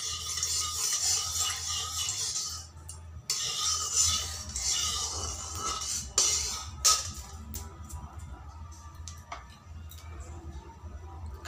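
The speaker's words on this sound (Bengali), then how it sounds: "কালো জিরেগুলো ফোড়ন দিয়ে দিব।" Black cumin seeds tempered in a little hot oil for a spinach (palong shak) dish: a steady, close sizzle with occasional metallic clinks and scrapes of a utensil in the pan, with no talking.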